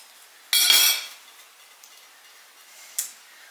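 A knife cuts through a freezer yeast roll: one close, bright crunching scrape about half a second long, followed by a quiet pause and one short tap.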